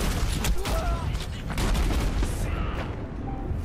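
Dense, continuous gunfire in the video game Overwatch, loud and close, with rapid shots blurring into a steady barrage.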